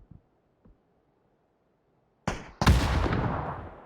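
Grenade explosion in PUBG: a faint quiet stretch with small clicks, then two loud, close blasts a fraction of a second apart, the second booming and rumbling on as it slowly decays.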